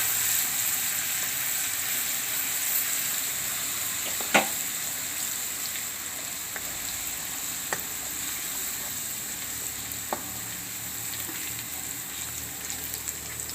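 Chilies and garlic crackle in hot oil during tempering for a whole-onion curry. A loud, steady sizzle runs throughout, broken by a few sharp pops and clicks.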